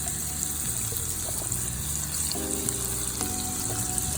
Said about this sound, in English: Just add it into the frying pan until it's nice and golden and translucent.